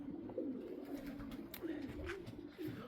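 Pigeons coo in a crowded loft, low soft repeated calls overlapping at a moderate distance, with faint rustling behind.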